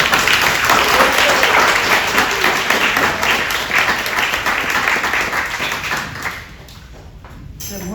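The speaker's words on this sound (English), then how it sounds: "give me a round of applause for Amy Thurman." A morning service audience at a spiritual living center gives a loud, sustained round of applause with dense clapping, which thins and fades toward the end.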